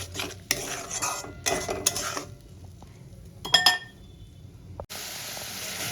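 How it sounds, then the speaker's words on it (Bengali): Masala and tomato paste are stir-fried in a pan: a spoon scrapes and clinks against the metal in short bursts separated by pauses, over a faint background sizzle, with no voices. "খুব ভালো করে কষিয়ে নেব"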